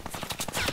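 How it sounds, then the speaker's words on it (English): Rapid minigun fire in Fortnite, a fast continuous string of gunshots at moderate volume, under a second long. "Okay, he's mini-gunning my ass."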